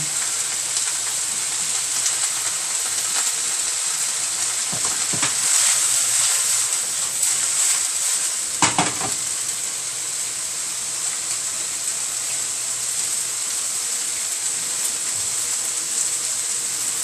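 Smoked pulled pork stir-frying in a hot wok, a loud, steady, close sizzle and crackle with occasional scraping stirs, continuing without talk.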